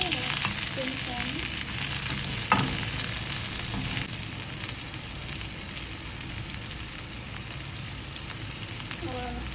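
Curry leaves and chillies sizzle and crackle steadily in hot oil in a pan, a dense close frying hiss that continues throughout with no talk.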